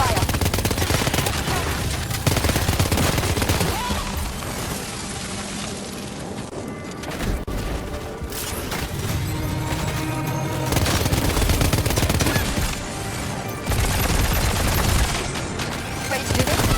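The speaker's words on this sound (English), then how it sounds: "Open fire." Heavy gunfire in Death Stranding 2 rattles in dense, continuous volleys, loud and close, with booming bursts blending into a busy game soundtrack throughout.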